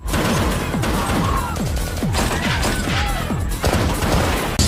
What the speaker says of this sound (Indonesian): Inspektur Perma dan polisi pun membuka serangannya yang membuat terjadi pergejolakan senjata